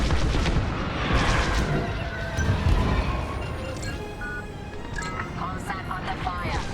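Blaster fire striking a comsat in Star Wars: Squadrons, a steady barrage of laser shots and booming impacts over a dense battle din, with voices talking over the action.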